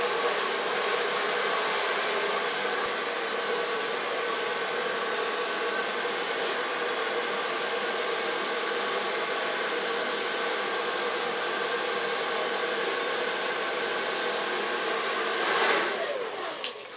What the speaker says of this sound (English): So far blow dry.